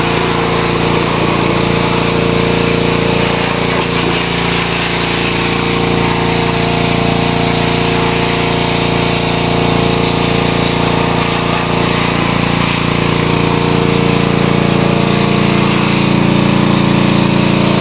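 A power tool grinds steadily, stripping rubber stuck to the tire of a BMW S1000RR motorcycle; the loud, continuous whine and rumble runs throughout with no talk.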